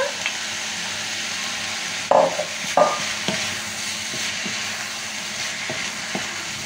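Tomatoes going into a hot pan on a gas or plate hob, a steady sizzle running throughout with a couple of louder stirring scrapes and clatters partway through.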